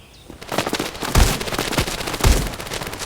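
Rapid bursts of gunfire from a gun during a match, loud close automatic fire in several clusters of shots over about three seconds, no talking.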